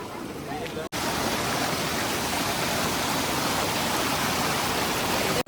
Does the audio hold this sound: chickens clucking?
no